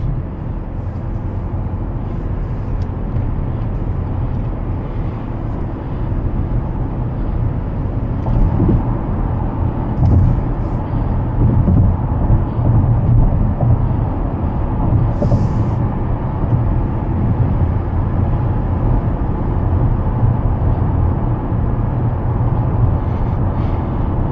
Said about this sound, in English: Listen to that 4-cylinder go.